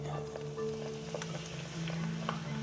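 Okoy, Filipino vegetable fritters, fry in plenty of oil over low heat, a soft, steady sizzle with faint crackles under a constant low hum, close and quiet.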